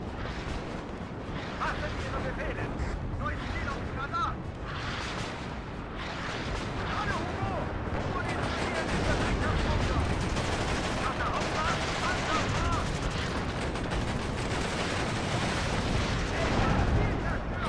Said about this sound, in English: That's my own artillery, by the way.